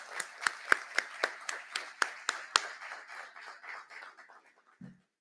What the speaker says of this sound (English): So let's give a round of applause to our City Council.